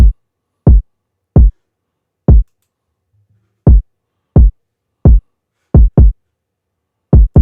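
A punchy kick drum sample in an FL Studio trap beat, about ten deep, short thumps in a sparse, uneven pattern, loud and dry with silence between hits.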